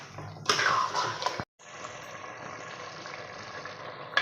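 Ground masala paste sautéing for chicken curry, a close, bright sizzle that swells at first, cuts out briefly, then resumes as a steadier, softer frying hiss to the end.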